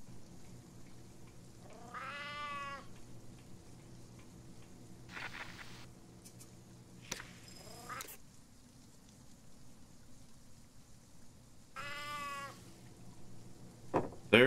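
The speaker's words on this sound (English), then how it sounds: "feed the cat" Cat meowing in the survival game Sheltered: a few separate drawn-out meows spaced across the clip, moderately loud over a quiet background hum with faint rain-like patter.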